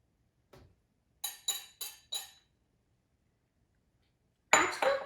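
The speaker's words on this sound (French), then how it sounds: "battre le œuf." Fork beating an egg in a bowl for pancake batter: a single soft tap, then four quick, evenly spaced glassy clinks, a pause, and a louder, scraping double clatter at the end.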